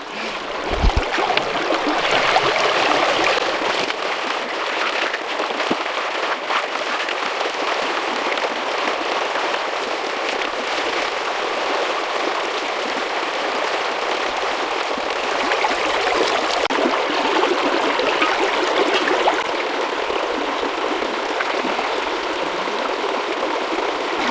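Steady rushing and splashing water from a test pan of silt being worked for gold, continuous and close throughout, with no talking.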